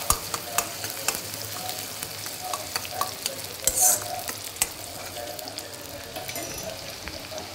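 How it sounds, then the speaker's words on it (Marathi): Crushed ginger and garlic sauté in a pan, with a continuous frying sizzle broken by scraping stir strokes and occasional light taps of the spoon. "आणि हे आलं लसूण ठेचलेला त्याच्यामध्ये घालायचा आणि लाल कलर येईपर्यंत परतून घ्यायचं"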